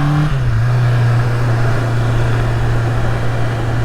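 A Honda CBR650R motorcycle engine while riding, a loud steady hum that drops slightly in pitch at the start and then holds constant, with wind noise alongside.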